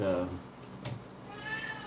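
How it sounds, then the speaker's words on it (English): A pet cat gives a short meow close by, with a person talking over and around it in a kitchen. "my cat"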